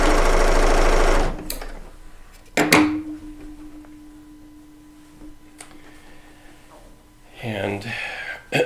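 A serger set to 800 stitches per minute runs loud and close through quilt fabric for a Decoupage Trip Quilt, a single burst of about a second that stops abruptly, followed by a voice talking.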